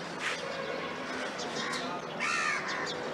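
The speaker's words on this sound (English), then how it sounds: "This is crow." Crows caw outdoors in a natural open place, several harsh calls at intervals over steady ambient noise, moderately distant, with a faint voice in the background.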